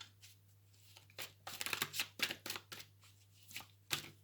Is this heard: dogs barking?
no